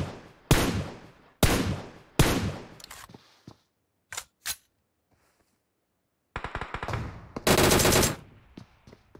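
Gunfire in a PUBG match on Erangel, with loud sharp rifle shots from a sniper tower: several separate cracks with echoing tails, a pair of quicker shots, then a close burst of rapid fire.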